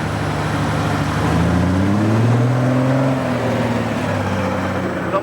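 A Foden lorry with an S36 two-stroke engine drives past at a parade, its loud, steady engine drone swelling and shifting pitch as it passes close by, with no talk over it.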